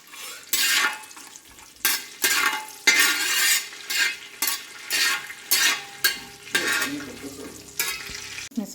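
Cashew nuts and raisins fry in ghee for Onam ada pradhaman, with a spoon scraping and stirring the pan in repeated loud strokes about once a second over a continuous hissing sizzle, close up and without talk.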